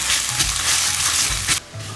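Ginger garlic paste frying in a pan: a loud, continuous close sizzle with occasional scraping stirs and a brief dip in the hiss near the end.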